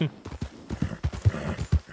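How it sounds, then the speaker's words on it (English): Horse hooves thud and clatter in an uneven rhythm during a horse crash in the Red Dead Redemption 2 video game, with heavy, close impacts. "Just a horse crash, it happens all the time in the Wild West"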